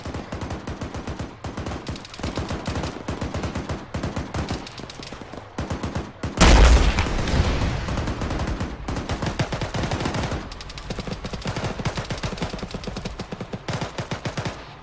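Gunfire in the military video game ARMA III: dense, rapid bursts of automatic fire running throughout, with a heavy, loud blast or impact partway through and more shooting after it.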